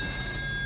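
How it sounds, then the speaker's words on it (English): A telephone rings on an offshore oil rig in the game Still Wakes the Deep, a short steady electronic ring heard over a low background hum. "I'm hearing a phone."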